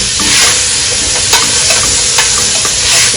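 Turmeric, tomatoes and carrots stirred in a pan, a steady sizzle under repeated scraping strokes of a spoon, close and fairly loud, with no voices.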